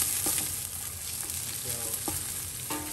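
Garlic and pork sizzling in a hot frying pan, a dense continuous crackling fry with small stirring knocks, close and fairly loud.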